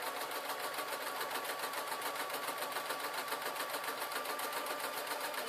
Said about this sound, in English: Now whilst I'm learning to sew this fabric, I'm just running literally in a straight line.